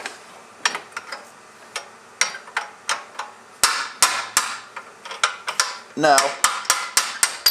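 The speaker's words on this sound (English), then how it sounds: "we can go in and beat the piss out of the bolt" Sharp metal hammer strikes driving out a rusted camber bolt on a BMW E36, a long irregular series of close ringing blows, some in quick bursts, with a brief spoken word near the start.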